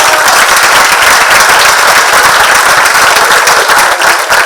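An audience at a State of the City address bursts into loud, sustained applause, dense clapping from a large crowd filling the room at an even level throughout.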